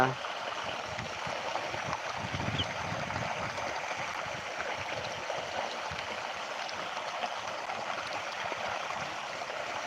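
Water streams steadily across a farm field as it is irrigated, a continuous broadband rush and gurgle holding an even level throughout, near and unbroken.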